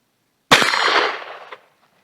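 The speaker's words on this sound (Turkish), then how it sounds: "12 kalibre tüfekle 36 kalibre mühimmat atıyoruz" A single loud shot from a 12-gauge shotgun firing 36-calibre ammunition at a 25-metre target, a sharp crack with a short ringing decay lasting about a second, heard alone.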